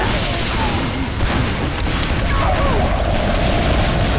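A bomb blast in Team Fortress 2 during a Halloween Merasmus fight, heard as a loud, continuous roar of booming game combat noise lasting several seconds with no clear separate hits.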